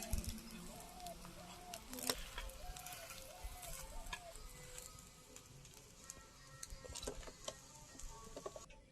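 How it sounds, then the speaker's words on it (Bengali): Rice flour snack shallow-frying in a little oil, a faint steady sizzle with scattered light ticks and taps, quiet and close throughout. "অল্প তেল দিয়ে ভাজবো"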